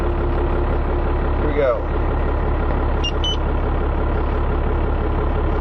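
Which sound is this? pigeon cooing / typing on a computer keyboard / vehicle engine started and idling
vehicle engine started and idling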